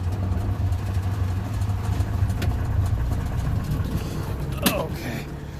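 A two-stroke Subaru 360 van engine runs with the choke held partly out, a steady close buzzing idle with a sharp clunk near the end.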